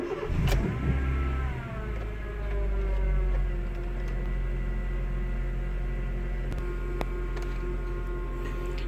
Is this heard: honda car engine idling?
yes